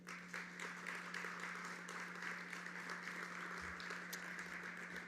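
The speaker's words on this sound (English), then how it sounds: "A round of applause for our elected officials who support what we do every single day." Faint, distant audience applause at a transit agency's annual State of CDTA event, a steady even patter of many hands for several seconds over a low electrical hum.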